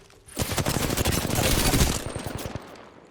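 Sustained automatic gunfire rips through a firefight in the Apex Legends arena mode, with rapid overlapping shots that are loud and close for about two seconds before trailing off.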